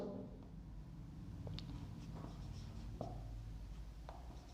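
Chalk or marker scratching across a board in a physics classroom, a few short strokes and taps over a steady low room hum, close and fairly quiet.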